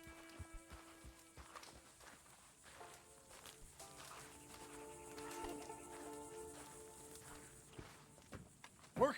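A horse walks in Red Dead Redemption 2. Its hoofbeats come in a steady clip-clop rhythm at moderate loudness, set against game music and ambience.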